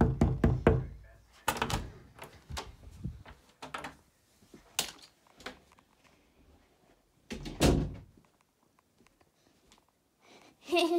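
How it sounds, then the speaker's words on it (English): Sharp knocking on a door comes in several separate clusters of raps, loud and close, with short pauses between the bursts and quiet gaps in between. "I'm going to knock on it"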